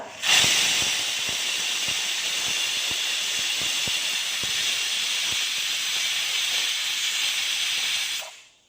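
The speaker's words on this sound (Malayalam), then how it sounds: "ഇപ്പോൾ ഹൈ ഫ്ലെയിമിൽ 1 വിസിൽ അടിച്ചിട്ടുണ്ട്" A pressure cooker cooking ghee rice on high flame hisses steam steadily and loudly for several seconds without a break at its first whistle, with faint clicks underneath, then cuts off.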